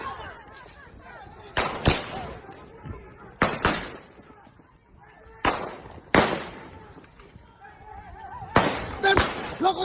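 Sharp gunshot-like bangs during a clash between mobile brigade officers and police in Tual, Maluku, arriving in irregular bursts of several shots, close and loud, with shouting voices in between.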